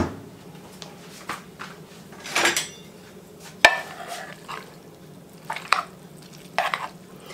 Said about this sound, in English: Stir them until the cream cheese melts.